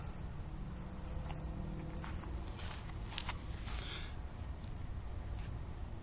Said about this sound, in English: Oh, bugs, man, lots of bugs up here.